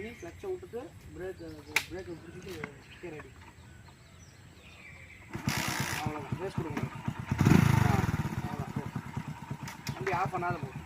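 A motorcycle at a driving-licence test ground is kicked over after some talk. A rough burst comes first, then a loud thump as the engine catches and settles into a rapid, close idle. Voices are heard before and during it.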